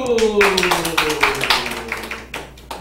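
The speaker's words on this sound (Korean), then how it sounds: "박수!" Clapping from a church gathering, a scattered run of claps over a lingering sustained tone, fairly close and fading out toward the end.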